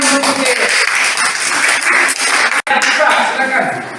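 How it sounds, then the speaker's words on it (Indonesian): A classroom full of students claps steadily for one of their classmates, a dense, even patter of many hands that continues throughout with one brief pause near the middle. "Tepuk tangan untuk Yeye"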